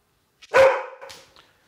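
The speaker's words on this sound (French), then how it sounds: "juste le fait de lui montrer le signe comme ça lui permet à elle d'aboyer." An assistance dog gives a single loud, close bark on a hand signal, a short sharp burst followed by a softer trailing yelp, with no voices around it.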